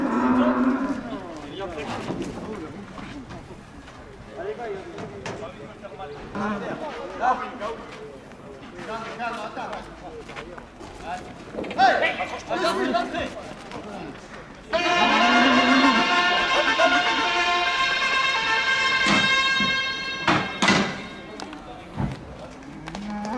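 Cattle lowing at a Camargue bull course (course camarguaise) in Saint-Rémy-de-Provence, with repeated moos and a long loud bellow near the end, amid crowd noise and people talking.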